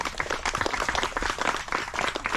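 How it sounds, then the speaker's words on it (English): A small group on a Moturakau coconut tour claps together in steady, fairly close applause, with some voices mixed in. "How about a big round of applause"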